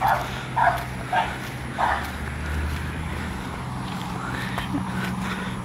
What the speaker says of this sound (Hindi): कुत्ते के पुत्र भौंकते भी ढेर हैं।